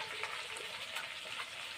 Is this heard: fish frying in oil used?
yes